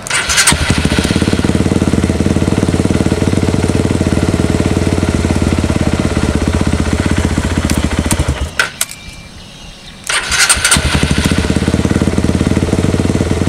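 A motorcycle fitted with a Juken 5 ECU cranks and runs with a loud, close, rapid engine rattle that drops out briefly near the end before the engine roars back, with no voices.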